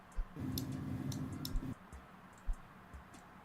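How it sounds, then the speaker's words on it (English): Computer mouse clicks come through faint and sharp as scattered single taps over a quiet background, alongside a short low hum partway through. "I can hear the clicking of your mouse."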